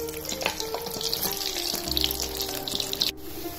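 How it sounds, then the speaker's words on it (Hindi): Almonds and other dry fruit fry in hot ghee in a pan, giving a steady, close sizzle with a few light clinks and scrapes and no talk. "अभी घी गरम हो गया है और हम इसमें ड्राई फ्रूट को फ्राई करेंगे।"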